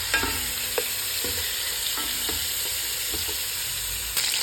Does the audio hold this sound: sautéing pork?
yes